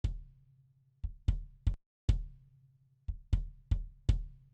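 A kick drum track from a song mix thumps alone in a loose, irregular pattern of about nine deep, punchy hits, each with a short boomy tail.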